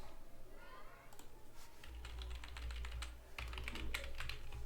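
Quick, steady keystrokes on a computer keyboard while PHP code for a social media signup form is entered, close and fairly crisp over a low background hum.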